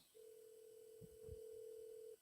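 A phone call's ringing tone sounds as one steady electronic hum lasting about two seconds, faint and alone, with a couple of soft low thumps partway through.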